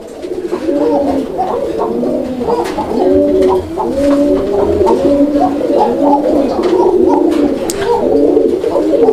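A male pigeon coos in a repeated rolling, throaty rhythm, close and loud, with its calls overlapping in a steady series throughout.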